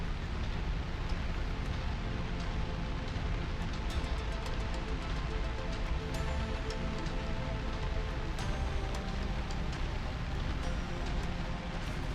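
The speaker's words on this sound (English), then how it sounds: "Little rain on my windshield." Rain patters on a mech's cockpit windshield in the video game MechWarrior 5, a constant close wash of droplets over the low rumble of game sound.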